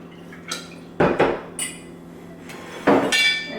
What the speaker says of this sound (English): And now I will just pour it back and forth, over and over.